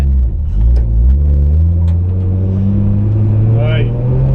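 A 440BHP R33 Nissan Skyline engine drones steadily from inside the car, its pitch climbing and settling as it drives, with people talking over it.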